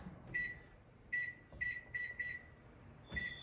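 An oven's control panel beeps as it is set for baking, a series of short, high electronic tones in an irregular sequence, fairly quiet against a soft kitchen background.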